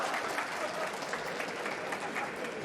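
Steady applause from a crowd of spectators at the International Chess Championship 2024, a continuous clapping patter that stays even and moderately loud throughout.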